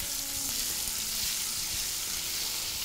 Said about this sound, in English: as it all sizzles in quite nicely